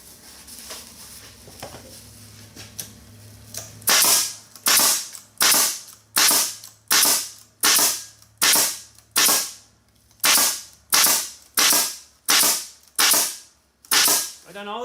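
A pneumatic nail gun fires a regular series of about a dozen sharp, loud nailing shots in steady rhythm, close by.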